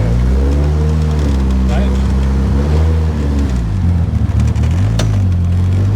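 A 1982 Toyota Corolla with an unusual engine and gearbox setup cruises gently in automatic mode, its engine droning steadily from inside the cabin and the pitch shifting smoothly, with a voice talking over it.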